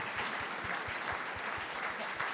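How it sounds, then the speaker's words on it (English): A summit audience applauds its panelists, a dense, steady round of clapping from a crowd that holds evenly for the whole stretch. "Can we get a round of applause for our panelists?"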